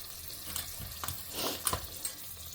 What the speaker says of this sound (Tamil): ஸோ இதெல்லாமே கொஞ்சம் வாசனை வர வரைக்கும் வறுக்கட்டும்.